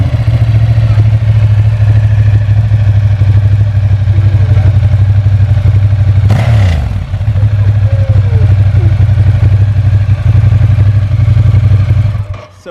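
A stock 2015 Ducati Diavel V-twin motorcycle with low mileage runs loud and close with a deep, steady, throbbing rumble. A brief clatter comes in the middle, and the sound stops abruptly at the end.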